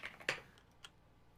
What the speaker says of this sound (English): I'm typing in words in Google.